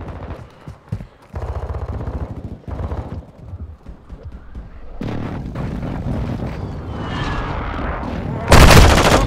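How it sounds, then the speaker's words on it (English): Gunfire and explosions from a Modern Warfare 2 online multiplayer match with vehicles on a large map, dense and continuous, ending in a loud close blast as a precision airstrike lands. "Enemy precision airstrike, find cover."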